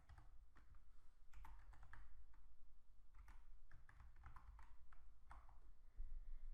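Rapid, light keystrokes on a computer keyboard clatter in irregular bursts, entering an IP address, close and quiet with a soft background hum.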